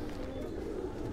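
A pigeon coos softly nearby in a hot-season rooftop loft, low throaty murmurs that stay faint and muffled over a quiet background.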